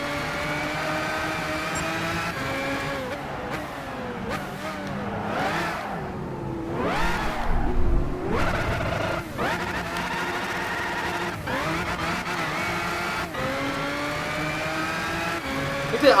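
Car engine revving hard to the redline in the racing game Gran Turismo 5 at Tsukuba, a loud continuous roar that rises and falls through repeated shifts and drops in pitch, with no talk over it.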